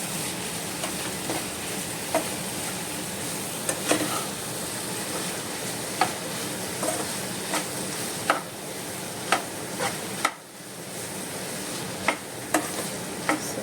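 Roasted ingredients are mixed together in a pan, a low constant sizzle with regular scraping knocks of the spoon every second or two and one brief dip in the background noise.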